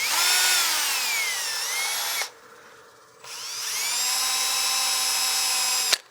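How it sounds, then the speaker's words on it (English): A wooden cake stand spins on a lathe while 600-grit abrasive is pressed to the rim. A steady, loud whine of the turning piece runs with a smooth rubbing hiss, breaks off for about a second, then resumes, with no talk. "Sand the rim, I'm just going to touch that on the corner, just soften that."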